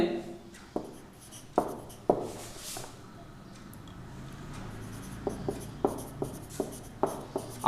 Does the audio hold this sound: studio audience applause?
no